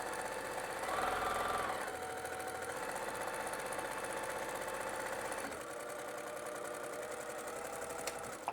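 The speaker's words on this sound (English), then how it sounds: "Then I'm just back stitching to lock in that corner down there" Domestic sewing machine back stitching to lock the corner of a scrap-fabric pet bed, a steady close mechanical hum with rapid needle chatter running throughout, briefly louder near the start.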